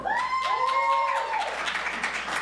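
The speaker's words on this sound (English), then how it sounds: "Round of applause." An audience at an improv theater show claps steadily with a few cheers and whoops rising over the applause early on, a small crowd sounding close and lively before the noise thins out.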